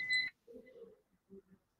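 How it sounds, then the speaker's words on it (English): A single short electronic beep with a bright, steady tone sounds at the start, followed by faint low talking. "there's some beeping there"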